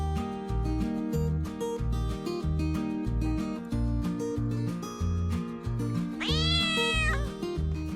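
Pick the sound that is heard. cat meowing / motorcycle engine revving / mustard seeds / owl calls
cat meowing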